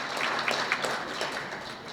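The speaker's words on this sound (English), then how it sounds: "Round of applause for Quirk and the food." Audience applause at a hotel celebration for a birth community, a steady wash of many hands clapping from a crowd, moderately loud with a few sharper claps standing out.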